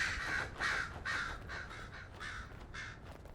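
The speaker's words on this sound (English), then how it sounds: "whenever we see or hear crows flying away and cawing" Crows caw in Dragon Age: Inquisition, a run of harsh, rasping calls repeating about every half second, loud and close, with no talk over them.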